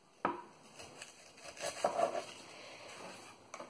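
A knife chopping baby bok choy on a cutting board makes a few soft, irregular cuts and crisp leafy crunches, close and fairly quiet, with no voice.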